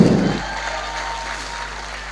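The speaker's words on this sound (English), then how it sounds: "Please, a round of applause for that lady again." A live audience at a political talk show applauds a woman, producing a brief, steady wash of clapping that continues evenly without speech.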